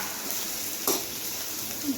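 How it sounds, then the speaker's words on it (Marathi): Vertically sliced onion sautés in a pan with a steady, moderate sizzle, broken by a brief stirring scrape near the middle; no one speaks. "थोडासा असा आपण त्याला गुलाबीसर भाजून घेऊया कांद्याला"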